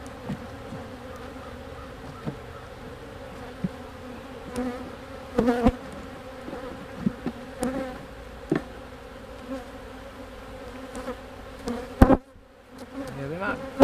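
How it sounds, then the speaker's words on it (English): Honey bees swarm and buzz loudly around an opened beehive while the hive is split vertically with a screen divider board. The drone is continuous and close, with scattered knocks and clicks from the hive work. "they're just buzzing everywhere like, hey, what are you doing?"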